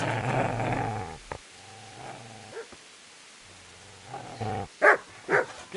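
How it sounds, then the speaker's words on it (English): A dog in the Kingdom Come: Deliverance game growls low and continuously, then breaks into a few sharp barks and yips toward the end, fairly close with no talk. "Get away, you mutt!"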